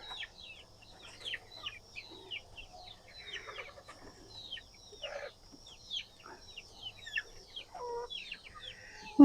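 Young grow-out chickens in a coop keep up a steady stream of chirps and soft clucks, several birds overlapping at close range with no talking.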